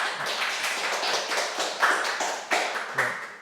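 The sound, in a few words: audience applause welcoming the lecturer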